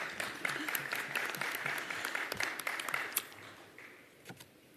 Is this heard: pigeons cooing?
no